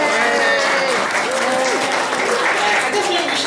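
A gallery audience at a photography exhibit opening gives steady, dense applause, with voices and cheers rising over the continuous clapping.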